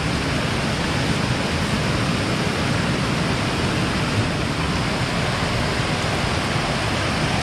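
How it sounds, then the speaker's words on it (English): Sacred Dancing Cascade waterfall in Glacier National Park, a loud, close, steady broadband rush of falling water that never changes, with no voices. "this is the Sacred Dancing Cascade at Glacier National Park"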